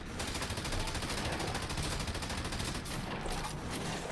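An assault shotgun fires in Firefall, a rapid, continuous barrage of loud blasts that runs unbroken for about four seconds.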